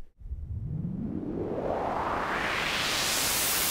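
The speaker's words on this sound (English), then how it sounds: "I can save this combinator patch as my own white noise riser" A synthesized white noise riser built in Reason 5 with a combinator patch and reverb, a steady hiss whose sweeping filter climbs smoothly upward in pitch and brightness over a few seconds, loud and alone.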